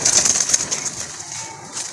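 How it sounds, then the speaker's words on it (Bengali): A single male pigeon with a strong, high-quality call coos close by, its throaty notes loud at first and then fading within two seconds, with no voices. "খুব ভালো মানের ডাকে কবুতরটা"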